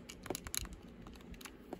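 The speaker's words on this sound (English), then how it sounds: "The buttons are really clicky on this system too." Sharp plastic clicks from the buttons of an iQue DS Lite handheld while New Super Mario Bros is played, a quick irregular run of close taps with no talk.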